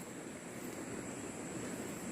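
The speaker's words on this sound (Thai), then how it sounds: "ผมได้ยินเสียง น้ำเสียงลำธารที่ชัดเจนมาก ๆนะครับ" A forest stream near the Mae Mao dam in Fang, Chiang Mai, gives a faint, steady rushing hiss of flowing water with no breaks, heard alone.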